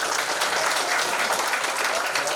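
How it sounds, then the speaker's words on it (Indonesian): A crowd claps at the opening ceremony of an international school in Indonesia, a dense, continuous burst of applause filling the whole stretch with no pause. "tepuk tangan untuk Ais semuanya"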